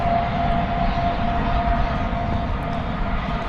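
Boeing 787-8 Dreamliner airliner taking off at Dallas Fort Worth airport in the evening, a steady, loud broadband engine roar with a sustained whine, unbroken throughout.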